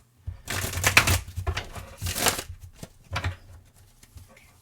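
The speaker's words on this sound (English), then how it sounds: "let me do a little bit of a shuffle" A deck of cards is shuffled close by, a few quick riffling bursts with short pauses between them, fairly quiet and with no talking.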